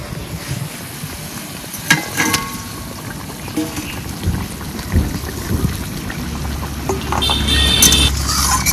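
Snakehead fish and sour green mango going into a pot of boiling water, with a clatter and splash followed by steady bubbling and occasional stirring knocks close by.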